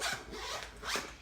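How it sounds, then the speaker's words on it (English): A zipper on a dashboard planner is drawn in two quick, raspy pulls, close up and fairly quiet with no talking. "It's the zipper. It keeps everything securely inside"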